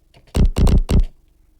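A distorted synth bass with asymmetric distortion pushed in the opposite direction plays three short, punchy, gritty notes in quick succession, loud and alone with silence around them.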